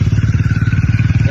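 Exhaust of a Hunter motorcycle firing in a fast, steady, throbbing pulse with loud, close low-end rumble, running continuously throughout.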